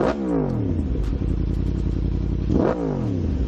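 A vehicle engine, on a car that spits flames, revs hard twice, each burst climbing sharply in pitch before falling back. The engine stays loud and close between the two revs, and nobody speaks.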